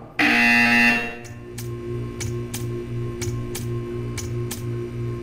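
A harsh, loud buzzer blares in the Portal 2 video game, a single long electronic tone that cuts off, followed by a steady repeating series of sharp ticking clicks over a low hum.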